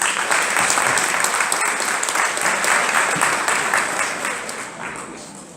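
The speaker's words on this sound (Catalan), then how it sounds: "Un fort aplaudiment!" Audience applause fills a school Christmas festival hall, steady broadband clapping from a crowd that holds for several seconds before tapering slightly toward the end.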